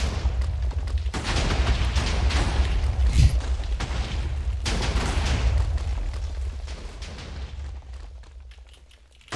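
Video game gunfire: heavy booming bursts of shots and blasts fill the clip almost without pause, loud and close, fading toward the end.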